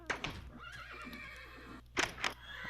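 A horse in Minecraft gives a loud, close whinny at the start, then two more sharp neighing bursts near the end, separated by softer snorting sounds, with no speech.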